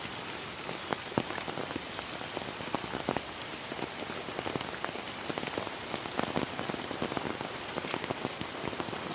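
Rain falling steadily on a farm, dense hissing patter on surfaces with sharper drops tapping throughout, close and constant with no voices.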